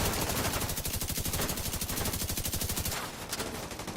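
Rapid automatic gunfire in The Division 2 rattles in a fast, even stream of close shots, then gives way to a few scattered bursts after a brief change in tone.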